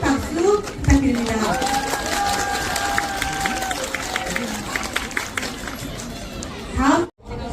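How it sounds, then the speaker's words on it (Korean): A concert audience applauds and cheers after a ukulele performance, a dense, continuous wash of clapping and crowd noise with voices mixed in, ending abruptly. "우쿨렐레 팀에게 큰 박수 부탁드립니다."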